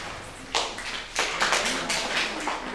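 Audience clapping for panelists at the end of a conference session, a scattered patter of a modest number of hands that starts abruptly, swells and continues unevenly at moderate volume.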